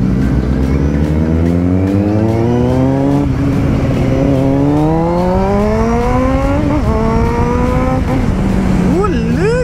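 A Kawasaki Z750 motorcycle engine revs repeatedly, its pitch climbing in long sweeps then dropping, loud and close, with a voice talking over it near the end.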